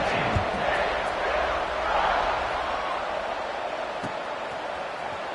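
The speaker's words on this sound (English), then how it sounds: "this crowd is buzzing after that last score" A football stadium crowd at Washington at TCU keeps up a steady, dense buzz after a score, a broad roar of many voices that stays level throughout with occasional louder swells and no distinct cheers.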